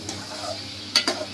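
A milk mixture being stirred in a cooking pan, heard as a soft scraping swish followed by two quick metallic clinks near the end over a low background hum.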